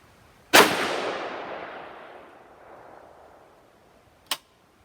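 A single close, loud gunshot from a 6.8 SPC rifle with a 16-inch upper fires, then a long echoing tail fades away. A second short, sharp crack follows a few seconds later.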